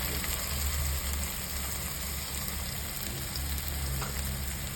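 Onions, garlic and chili masala frying in hot oil for a brinjal curry, a steady dense sizzle crackling evenly throughout with a low hum underneath.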